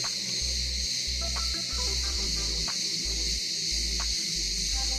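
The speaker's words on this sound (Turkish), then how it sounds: "Bizden önce uyanan cırcır böcekleri yolculuğumuzda bize arkadaşlık ediyorlar." Crickets chirp steadily at dawn along the Lycian Way trail near the Mediterranean coast, a dense continuous insect trill with a pulsing low hum beneath, heard alone without voices.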